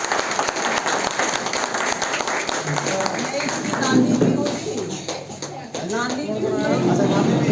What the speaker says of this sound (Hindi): वीडियो बन रही है ना ताली बजाइए आप